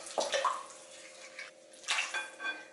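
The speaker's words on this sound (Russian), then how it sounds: "Добавляю 350 мл молока" Warm milk pours into a bowl of dough mixture with rum in it, a short close splashing gurgle that comes in two brief bursts.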